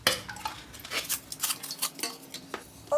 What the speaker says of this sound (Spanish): Y de vez en cuando removemos.